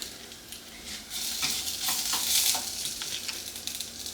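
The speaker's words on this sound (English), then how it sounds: "Go ahead and add our 2 frozen tomato paste in here." Frozen tomato paste hitting a hot pan with browned bits from chicken fajitas, a rising hiss and crackling sizzle that swells and holds steady with light stirring.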